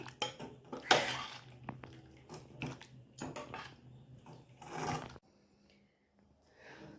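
Cooked chicken pepper curry (milagu varuval) being scraped from a metal pan into a bowl: several clattering bursts of spoon on cookware and clinking, then a near-silent pause before a faint rustle.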